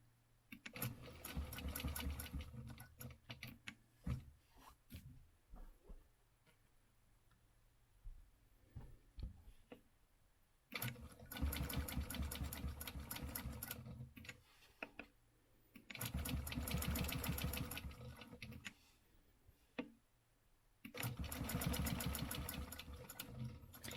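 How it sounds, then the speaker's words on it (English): Sewing machine stitching a quilt square in steady close bursts of rapid whirring, four long runs separated by quieter pauses with faint handling noise. "let me go ahead and stitch this square real quick"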